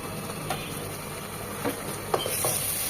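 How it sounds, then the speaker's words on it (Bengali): Ginger garlic paste fries in oil for a beef rejala, a soft steady sizzle with a few light stirring scrapes and taps scattered through it. "আদা রসুনটাকেও 1 মিনিট ভেজে নেব যেন ঝাঁঝালো গন্ধটা চলে যায়।"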